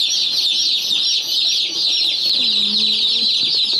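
Baby chicks chirp together, a dense, continuous chorus of high-pitched peeping heard close up, with a few lower clucking notes underneath near the end.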